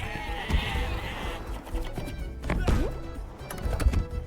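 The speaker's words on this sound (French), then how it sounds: "Les milliards de moutons" Sheep bleating in the video game Wanderburg, several wavering calls overlapping among dull thuds and game noise, moderately loud and close.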